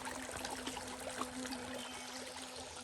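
A brook flowing beside a trail along the old Grand Trunk rail line near a road culvert in Jefferson, Massachusetts, giving a steady, soft trickling wash with no voices.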